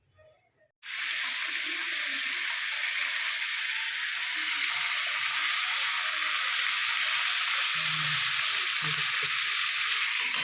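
Vegetables frying in hot oil in a home kitchen give a loud, steady broadband sizzle that starts abruptly after a brief quiet moment and carries on throughout, with faint clinks of utensils underneath.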